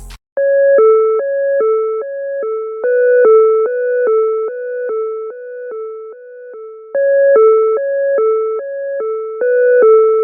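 A clean, tone-like synth plays a bouncy counter melody of short repeating notes in a steady rhythm, clear and upfront, alone.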